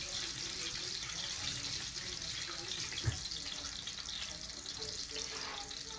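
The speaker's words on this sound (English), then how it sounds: "Now I'm gonna rinse my hands off." Tap water runs steadily into a kitchen sink while hands are rinsed under it, a close, continuous splashing hiss with one brief knock midway and no talking.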